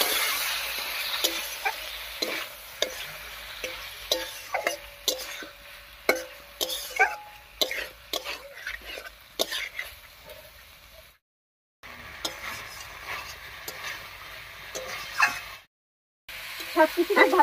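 River fish curry ingredients with brinjal and ground spice paste in a little water get stir-fried in a pan: sharp spatula scrapes and clinks over a low sizzle in an irregular rhythm, with two short silent gaps.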